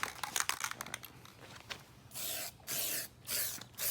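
Short bursts of spray paint coating a car differential cover, several hissing passes of about half a second each after a stretch of quieter handling noises.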